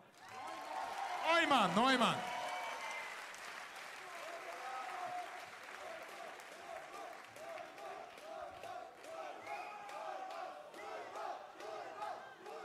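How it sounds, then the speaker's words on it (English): Crowd applause and cheering at a mixed martial arts fight gala for two fighters, with a loud shout from the announcer over the ring microphone early on, then sustained clapping and crowd noise under intermittent speech. "give them both a big and big applause, ladies and gentlemen"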